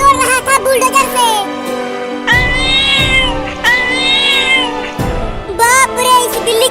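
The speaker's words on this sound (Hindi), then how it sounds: "अरे अब ये इतनी बड़ी बिल्ली कहाँ से आ गई?" A large cat meows loudly and repeatedly in a comedic domestic scene, the long, strained calls close and prominent alongside voices.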